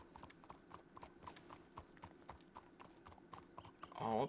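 Steady clip-clop of horse hooves in a video game at an even walking rhythm, moderately close, ending with a brief louder whinny-like burst.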